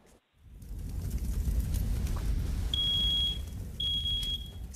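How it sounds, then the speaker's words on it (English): A smoke alarm sounds two shrill, piercing beeps over a low rumbling background, the second following after a short pause. "WCCO's Jennifer Mayerle put smoke alarms to the test"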